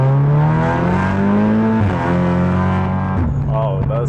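Tuned 2-liter Audi S3 with a hybrid turbo running 32 psi of boost and a dual-clutch gearbox pulls hard. The engine drone climbs steadily and stays loud and close, broken by quick shifts near the two- and three-second marks.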